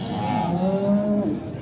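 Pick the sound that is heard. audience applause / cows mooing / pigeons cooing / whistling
cows mooing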